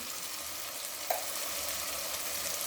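Spices and tomato frying in a pan for a potato spinach curry, a steady soft sizzle with a brief stir clink in the middle.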